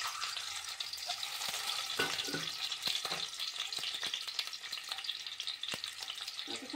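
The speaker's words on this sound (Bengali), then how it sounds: "কড়াই গরম হয়ে গেল, তাতে আমি এবার এগগুলিকে ভাজতে দিয়ে দেব" Eggs frying in a hot wok (kadai) for egg and mash potato curry, with a continuous close hiss of sizzling oil broken by sharp spattering crackles and a few clinks, no voices.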